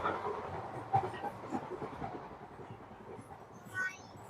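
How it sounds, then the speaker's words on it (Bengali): Old train carriages shaking and rattling while running at speed, a steady rumbling clatter with rhythmic knocks close by, the wheels and loose fittings drumming continuously. "ভাই এই ট্রেনটা অনেক বেশি কাঁপতেছে।"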